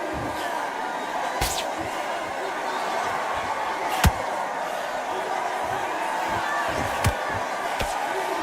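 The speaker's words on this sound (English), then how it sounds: "The crowd here cannot wait. They've been buzzing all day long" Boxing arena crowd in the video game Undisputed, a steady broad murmur filling the whole stretch, with a few sharp slap-like impacts cutting through near the middle and toward the end.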